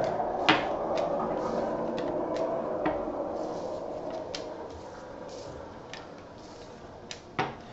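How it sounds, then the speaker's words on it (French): Skateboard wheels roll steadily on pavement with a continuous gritty rumble, punctuated by occasional clacks and knocks from cracks or bumps. "c'était le bruit d'un skateboard"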